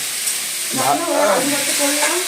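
Food frying in a home kitchen pan, with a steady loud sizzle and hiss throughout while a voice speaks briefly over it.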